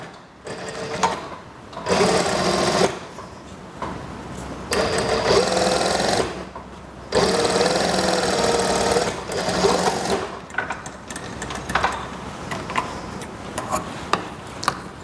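A sewing machine stitches the plain waistband of a junior high school skirt in several runs of fast, steady needle clatter, separated by brief pauses, close and loud.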